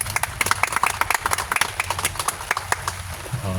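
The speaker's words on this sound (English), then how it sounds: "Again, big applause for Elle." An audience at an outdoor Bikers For Justice parental alienation awareness rally claps and applauds in a lively burst of uneven hand claps lasting several seconds.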